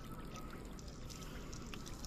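Water is poured from a kettle into a pot as part of a comic cooking scene, making a soft, steady trickling pour that lasts about two seconds, faint and close, with no talk over it.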